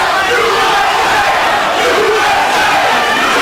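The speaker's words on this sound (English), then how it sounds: "Crowd chants USA to try to bolster the hopes of Vince Phillips." A dense, loud arena crowd at a boxing fight chants USA, a continuous roar of many voices filling the space throughout.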